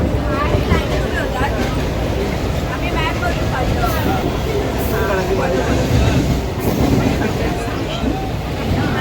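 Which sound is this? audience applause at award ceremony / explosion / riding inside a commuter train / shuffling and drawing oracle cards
riding inside a commuter train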